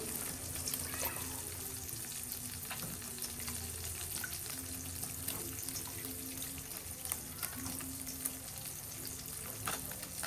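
Ginataang mongo, a mung bean stew with eggplant and chili, cooking in a pot, with a steady low sizzle and bubbling, light stirring clatter and faint water noise, no talking.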